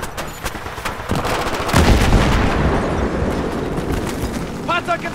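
Gunfire erupts during an ambush in Battlefield 3, with sharp repeated shots leading into sustained heavy automatic fire and rumbling impacts, loud and close, while voices call out over the shooting.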